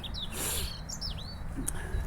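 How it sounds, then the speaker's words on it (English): Birds sing outdoors among trees, with several short chirps and a few higher whistled calls at moderate distance over a steady hiss of ambient noise. "all the birds are singing."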